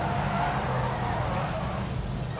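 A car engine runs steadily in a video game, a continuous low rumble at close range that holds without pauses.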